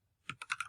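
A quick burst of four or five keystrokes on a computer keyboard, soft and close, lasting under a second.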